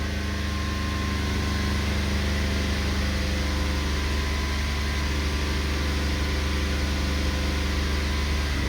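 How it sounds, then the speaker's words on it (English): A car engine, being checked for catalytic converter and oxygen sensor codes P0430 and P0420, runs as a steady loud drone held at raised revs around 3,000 RPM, unbroken and with no talking. "we can go ahead and rev this engine up a little bit here"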